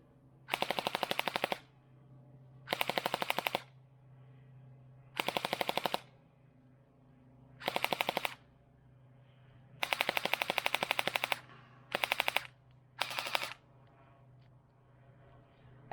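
Gunfire at a shooting range, with about seven loud bursts of rapid shots separated by short pauses, some long and some clipped short, at close range and with no talking.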